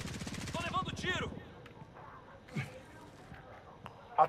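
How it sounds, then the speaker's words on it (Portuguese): A rapid burst of automatic gunfire in Call of Duty: Modern Warfare, a fast rattling volley followed by a few scattered distant shots and thuds, with quiet in-game voice chatter. "Tô levando tiro."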